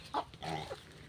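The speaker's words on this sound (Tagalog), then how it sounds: "Ayan, mga manok namin yan." Backyard farm chickens give a couple of short, soft clucks close by, brief and quiet against a faint background hum.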